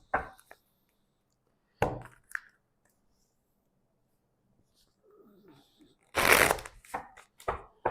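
Tarot cards are shuffled in several short riffling bursts separated by quiet pauses, with a faint murmur of voice in between.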